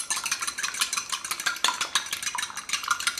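Egg whites being beaten with a fork in a bowl, making fast, steady, close-up rhythmic clicking and scraping strokes that continue without pause.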